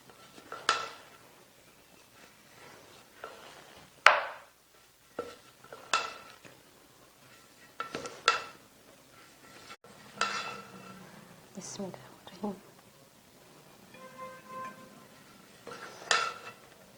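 A ladle scrapes and clinks against a pot while Kabuli pulao is mixed after slow dum cooking, sounding as a series of scattered metallic knocks and scrapes over a quiet kitchen background.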